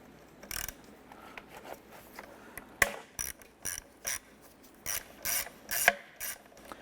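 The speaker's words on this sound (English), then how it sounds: "We're going to use our 8mm socket in our ratchet." A ratchet with an 8mm socket loosens a bolt while replacing the intake manifold sensor on a 2008-2012 Honda Accord, producing a series of quick clicking bursts in uneven bursts, close and fairly clear against a quiet background.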